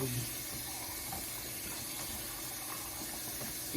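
Tap water runs steadily into a kitchen sink while a few dishes are washed, a continuous close rushing hiss with a faint clatter near the end.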